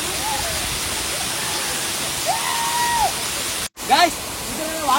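Rani Duduma waterfall roars as a broad, constant rush of falling water. A voice speaks over it at moments, and a brief dropout breaks the steady noise.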